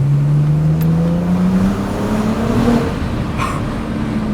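BMW 135i coupe with the twin-turbo N54 engine revs, a loud, close engine note whose pitch climbs smoothly, dips and rises again, with no talking.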